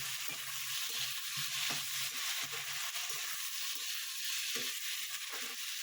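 Prawns fry in a pan with a steady, bright sizzle throughout, punctuated by soft periodic knocks and scrapes of stirring; no voices.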